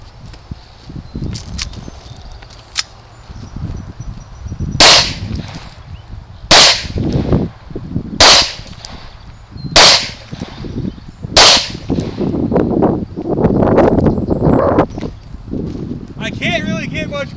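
A Hi-Point C9 9mm pistol fired outdoors at a coin target: five sharp, loud shots spaced about two seconds apart, with people talking between them and footsteps and handling noise around.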